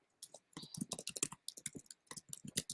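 Rapid typing on a computer keyboard, close and clear, with bursts of clattering key clicks broken by short pauses and no talking.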